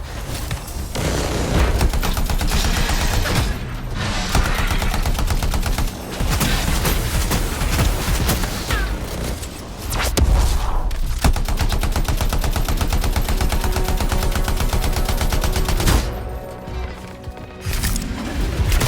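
Turrets fire in the video game Anthem, loud and nearly continuous rapid gunfire with a few brief dips, dense booming bursts filling the whole stretch.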